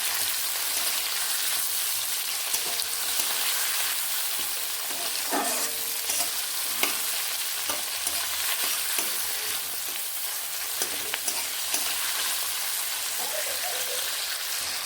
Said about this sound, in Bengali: টমেটোগুলোকে আমি এইভাবে আরও কয়েক সেকেন্ড এইভাবে ভেজে নেব